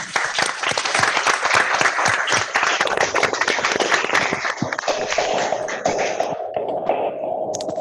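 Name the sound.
round of applause for DS Raja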